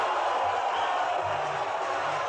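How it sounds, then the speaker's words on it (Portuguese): A live stage audience boos a performer, a steady dense roar of many voices filling the room without pause, loud and close throughout. "Vocês estão vaiando a vocês mesmos."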